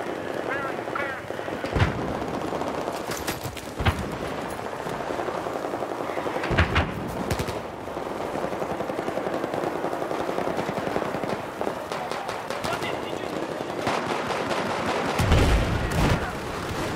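Weapon fire in Battlefield 4, from a gun on the Dragon's Teeth Lumphini Garden Rush map, comes as repeated bursts and single loud cracks over a dense, constant battle din, with a player talking throughout.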